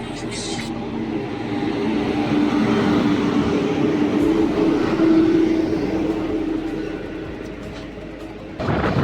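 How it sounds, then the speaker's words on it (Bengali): Train pulling out of Durgapur station bound for Jammu Tawi, a sustained rumbling roll of railway wheels and carriages close by, rising and steady throughout with a brief clank near the end. "আমাদের ট্রেন দুর্গাপুর থেকে ছেড়ে এবার জম্মু তাওই পথে"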